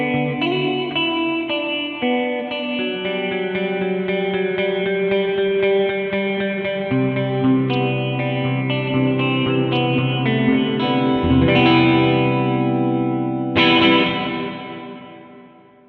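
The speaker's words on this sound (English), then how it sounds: "check out these filter settings with just the reverb" Sustained electric guitar chords through a Death by Audio stereo reverb pedal on its full filter setting, drenched in long, shimmering reverb, notes blending into a wash that swells and slowly fades at the end.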